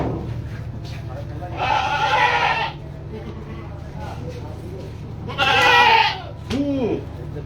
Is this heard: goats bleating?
yes